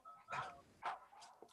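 A puppy gives two or three short, faint yips and barks, quiet and somewhat distant, with nothing else clearly audible.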